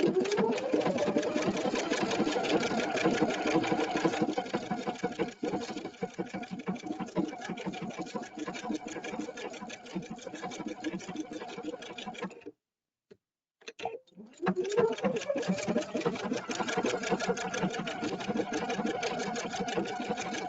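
A Husqvarna Viking EPIC 2 sewing machine stitches fabric in a fast, steady mechanical whir with rapid needle ticking, running close and loud, pausing briefly near the middle before starting up again.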